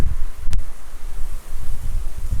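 Strong gusty wind blowing outdoors, a loud continuous low rumble of wind buffeting the microphone with one sharp brief crackle near the start.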